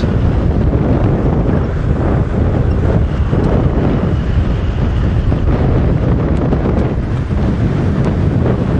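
Strong wind buffets the microphone during a safari drive in a constant, heavy rumble, with steady roaring noise and no voices throughout.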